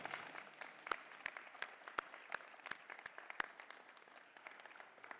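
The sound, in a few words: audience clapping at convocation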